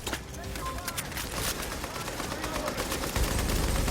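Rapid machine gun fire from the video game The Division crackles in dense bursts, with scattered gunshots and a player talking faintly over the action.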